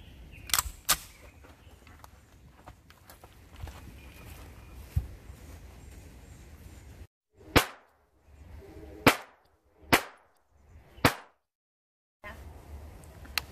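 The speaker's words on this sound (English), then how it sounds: "After I fire 5 shots" Ruger PC Charger pistol firing 124-grain rounds: five sharp, loud shots spaced about a second apart, each ringing out after a brief silence, with a steady outdoor background before and after.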